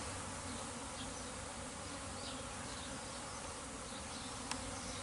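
A dense, continuous hum of many honeybees buzzing close by as they come out of an apiary hive after winter, steady and even throughout with no speech.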